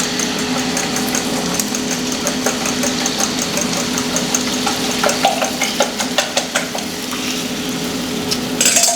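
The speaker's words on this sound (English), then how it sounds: "So this is just going to cook simple scrambled eggs" Simple scrambled eggs cook in a heated pan, giving a soft continuous sizzle over a faint steady hum, with light scraping and stirring clicks that become more frequent toward the end.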